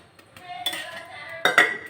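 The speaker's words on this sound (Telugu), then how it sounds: "స్టవ్ మీద అదే ప్యాన్ అయితే పెట్టేసి కొద్దిగా ఆయిల్ అయితే వేస్తున్నాను" A metal pan clanks onto a stovetop, followed by a few sharp clinks of cookware, close and fairly quiet.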